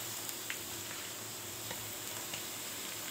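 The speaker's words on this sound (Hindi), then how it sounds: "चिप्स फ्राई हो रहे हैं।" Chips sizzle steadily in hot oil for guests' quick recipe, a constant close hiss with small pops and crackles scattered throughout, no voices.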